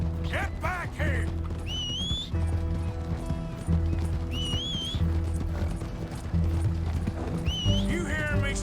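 A horse gallops in Red Dead Redemption 2, with rapid rhythmic hoofbeats, sharp whinnies and creaking coach mechanisms, while voices shout over the chase.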